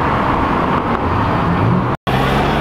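Steady car engine and road noise from nearby vehicles at a busy evening car meet, the London Tunnel Run 2019, with people around; a continuous rumble with a brief dropout near the end.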